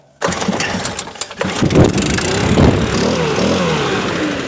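A two-stroke gas leaf blower, run on a 50-to-1 fuel and oil mix, sputters to life abruptly, catches after a few uneven bursts, then settles into a loud, steady buzzing run up close.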